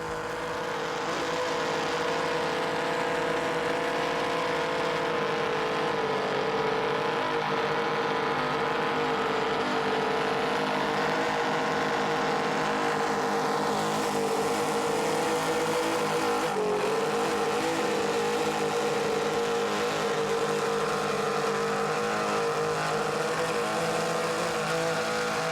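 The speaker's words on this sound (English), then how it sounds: "Let's listen into those Mercury Racing 860s." Mercury Racing 860 engines on a 40-foot Skater powerboat roar in a continuous, heavy, close drone for the whole stretch, with a brief waver in pitch partway through and no voices over it.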